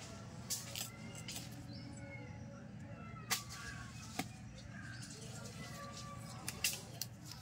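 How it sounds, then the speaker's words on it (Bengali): Data shak (stem greens) stalks are cut by hand in a home kitchen, giving a few sharp, crisp snaps and cuts, with faint background noise and soft movement between them. "একটা কেটে নিয়েছি, আরেকটা কাটছি।"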